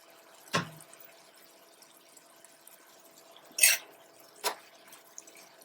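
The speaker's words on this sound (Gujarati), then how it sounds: "ફરી પાછું થોડું પાણી એડ કરી દઈશું" Water is splashed into a covered pan of cooking ivy gourd (tindora) in a quiet kitchen, three brief separate pours or drips, the middle one the loudest, each followed by silence.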